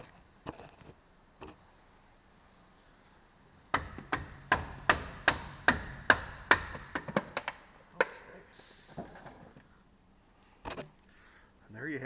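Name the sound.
prying and tapping brake pad out of caliper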